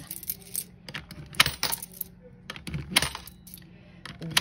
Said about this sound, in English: So I have these dollar coins